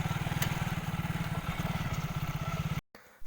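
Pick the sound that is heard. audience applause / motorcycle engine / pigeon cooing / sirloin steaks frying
motorcycle engine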